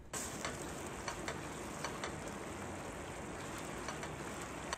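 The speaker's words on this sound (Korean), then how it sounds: "프라이팬에 양념을 부은 뒤에 바글바글 끓여주세요." Ketchup-based sauce with minced garlic, sesame oil and water bubbles steadily as it boils in a frying pan, a dense continuous sizzle with faint crackles and pops, fairly close, no voices.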